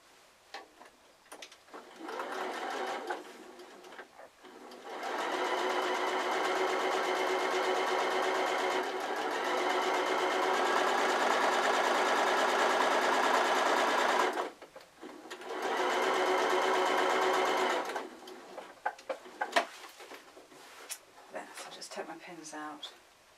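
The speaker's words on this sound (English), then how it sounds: "And sew over the raw edge." A sewing machine stitches ribbon over the raw edge of fabric for an iPad case, running in steady whirring bursts with short pauses between them, close and moderately loud.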